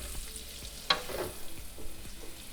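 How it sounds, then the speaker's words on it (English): Sliced banana pepper sautes in a pan with a soft, steady sizzle, a utensil stirring and scraping now and then, close and moderately loud. "I'll just come in with 1 sliced banana pepper, and I'm going to just saute that until it starts to soften up."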